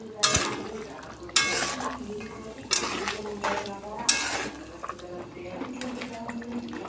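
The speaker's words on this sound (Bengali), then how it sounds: "আমি এখন গুঁড়ো করা গরম মশলা দিয়ে দেবো, দিয়ে মাংসটা নাড়িয়ে নেব।" Meat being stirred with ground garam masala in a pan, with a few sharp utensil scrapes and knocks against the pan over steady sizzling, close and moderately loud.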